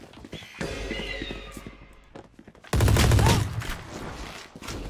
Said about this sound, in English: Fire being open immediately onto SSJ